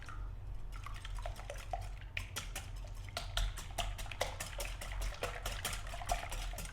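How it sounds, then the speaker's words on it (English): Four eggs whisked in a bowl, a quick run of sharp rhythmic clicks and taps of the whisk against the bowl, close and fairly quiet. "I am going to grab a whisk and get those mixed up just a little bit so that"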